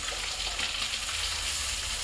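Meat frying in a pan gives off a steady, dense sizzle that fills the whole stretch evenly, close and moderately loud, with no voices over it.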